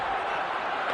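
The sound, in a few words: crowd buzzing in hockey arena in Buffalo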